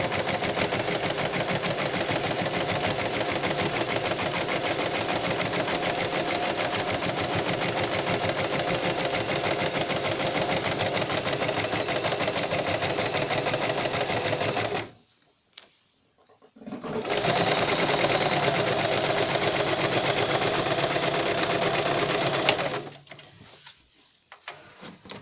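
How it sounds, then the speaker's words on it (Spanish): An oven mitt is stitched along a marked line on a sewing machine, which whirs continuously for about fifteen seconds, pauses briefly, then runs again for another stretch before stopping, with faint handling sounds after. "Me voy a la máquina. Ahora lo voy cosiendo por donde está la señal."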